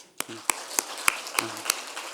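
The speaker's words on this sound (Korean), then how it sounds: "우리 교사들 다시 한번 축복의 박수 합시다." A Korean church congregation at a teachers' dedication service claps for its teachers: sharp, evenly spaced claps about three per second, fairly close, with a brief voice heard under the opening beats.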